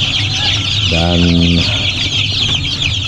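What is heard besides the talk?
Arab chickens clucking in a coop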